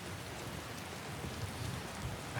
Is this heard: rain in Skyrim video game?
yes